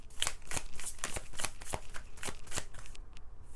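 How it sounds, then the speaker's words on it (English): Tarot cards being shuffled by hand in a quick series of crisp riffling snaps, close and fairly quiet. "Okay, we're just gonna shuffle. Every day we shuffle."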